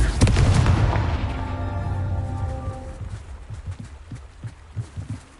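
A Confringo fire-blast spell in Hogwarts Legacy erupts in a loud, booming explosion with a long rumbling decay, followed by a series of softer thumping impacts.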